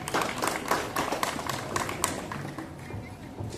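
A crowd at a Vasubaras gathering at Shri Valmikeshwar cow shelter in Pachubandar, Vasai, claps to welcome a woman guest. The rhythmic claps start loud, then thin out and fade over several seconds, with voices faintly underneath.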